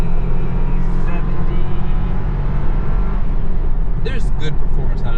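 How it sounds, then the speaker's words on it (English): A 2025 Toyota 4Runner TRD Sport with a 2.4-liter turbocharged inline-4 accelerates on the road, heard from inside as a loud, steady engine and road rumble that stays dense throughout. "There's good performance out of this engine."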